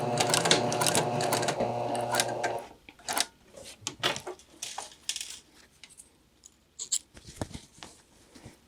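A sewing machine runs briefly, stitching an inward curve seam with a quick mechanical whir. After it stops, faint clicks and small handling taps follow in a quiet room.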